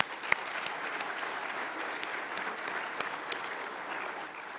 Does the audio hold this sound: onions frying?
no